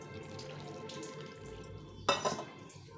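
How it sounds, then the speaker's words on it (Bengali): Water poured over raw green bananas in a home kitchen: after a quiet stretch of room noise, a short, close splash of water lands near the end. "এই কাঁচা কলার মধ্যে একটু জল দিয়ে দেবো।"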